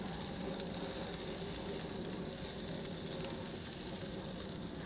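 Spring onions laid over direct heat on a grill give a dense, steady sizzle that stays even and close for the whole stretch, with no voices over it.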